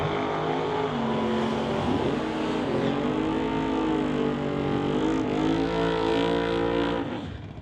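Chevy drag race car launching after a Camaro at a drag strip, a loud sustained engine roar with rising pitch as it accelerates away, steady throughout before trailing off at the end.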